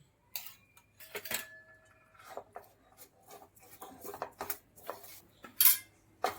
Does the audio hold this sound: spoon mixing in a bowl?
yes